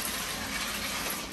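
Water gushes steadily from a tap to fill a two-month-old baby boy's bath, a continuous broadband rush with no pauses, close and fairly even in level throughout.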